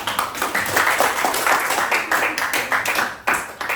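A school class claps hands together at the end of a group's presentation, a close, loud burst of many hands with slightly uneven rhythm that runs for several seconds, with a few sharper individual claps standing out.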